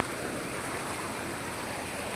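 Floodwater rushes during heavy rain in a steady, broadband roar of flowing water, even and unbroken, with no voices.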